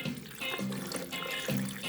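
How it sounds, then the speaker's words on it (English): Water runs and splashes steadily for a couple of seconds, a close, continuous liquid pour onto a batch of watermelon for a ginger smoothie, with no talking. "Now I'm going to add some water"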